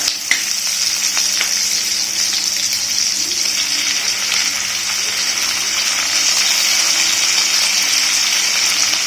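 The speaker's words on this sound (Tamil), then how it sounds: "புதினா ஒரு 4-5 இலை எடுத்து வச்சுருக்கேன், அது வதங்கட்டும்" A few mint leaves sauté in hot oil for a parotta salna, producing a loud, steady, close sizzle that holds evenly throughout with only faint scattered crackles.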